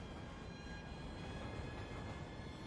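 A train rumbling past in The Land of Pain video game, a loud, constant, broad rolling roar that holds steady from start to finish.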